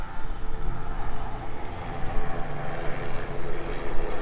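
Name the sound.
helicopter flying over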